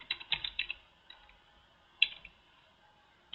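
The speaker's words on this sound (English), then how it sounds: "if you just type in Bedrock here" Keystrokes on a computer keyboard during a search on a web page: a quick burst of several taps at the start, then a lone sharper keystroke a little later, close and fairly quiet with no voices.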